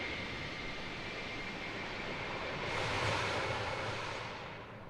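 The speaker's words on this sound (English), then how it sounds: "This little flyby." A KLM Airbus A330-200 airliner flies by in Microsoft Flight Simulator 2024, giving a steady, hissing jet roar that swells briefly near the middle and then fades away.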